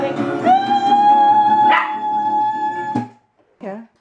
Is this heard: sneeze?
no